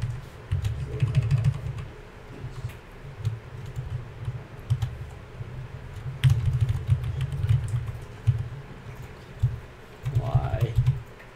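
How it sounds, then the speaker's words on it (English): Typing on a computer keyboard during a programming session, bursts of close key clatter with short pauses, a voice murmuring briefly near the end. "Ah, I hate this keyboard."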